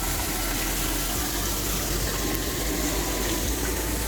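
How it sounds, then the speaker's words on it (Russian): A small waterfall at Hoang Ngoc Beach Resort in Mui Ne, a constant broadband rush of falling water, steady and close with no voices. "Здесь водопадик."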